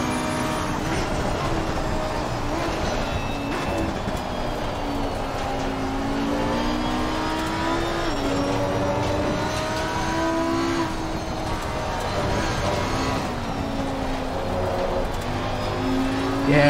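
A race car engine in Assetto Corsa Competizione howls through rising and falling gear changes on a circuit lap, loud and continuous with brief lifts through a sequence of bends.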